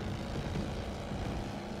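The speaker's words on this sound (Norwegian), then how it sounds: "Hold da op, hvor er der mange fly." A large formation of WWII fighter planes, including P-47 Thunderbolts, drones overhead in the Call of Duty WWII video game, a continuous dense low propeller-engine roar that holds steady throughout.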